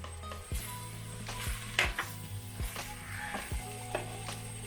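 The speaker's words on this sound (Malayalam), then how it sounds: "ഇതൊന്ന് ഇളക്കി യോജിപ്പിച്ച് കഴിഞ്ഞാൽ നമ്മുടെ വളരെ ടേസ്റ്റി ആയിട്ടുള്ള ചക്ക അവിയൽ തയ്യാറായിട്ടുണ്ട്." Jackfruit aviyal being stirred in a pot, with a spoon scraping and knocking against the vessel in several distinct, fairly quiet strokes over a faint background hum.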